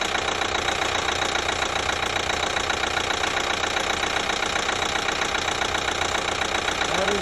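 A 2012 Chevy Equinox with a 2.4L engine idles steadily up close, its rough hum overlaid by a constant rapid ticking throughout.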